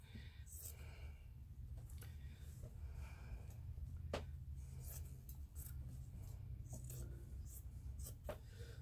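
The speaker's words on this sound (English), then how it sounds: "we're going to cut right down below that seam and clip those pleats to where they will lay flat" Fabric scissors snip through a shirt below a seam and clip pleats while cutting patchwork for a memory quilt, a series of faint, crisp, irregular cuts heard up close over a low room hum with soft breathing.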